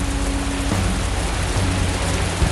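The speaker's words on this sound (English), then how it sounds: "Standing in the pouring rain" Pouring rain comes down as a loud, even, continuous hiss that fills the whole stretch, steady and close, with a faint low tone underneath and no voices.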